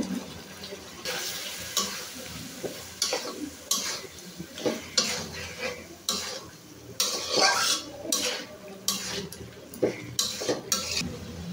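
Tomatoes go into a pan for Lahori mutton curry, followed by repeated clinks and scrapes of a spoon stirring against the metal, with soft sizzling underneath in uneven bursts.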